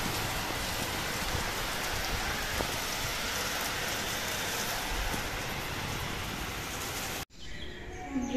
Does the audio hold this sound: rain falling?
yes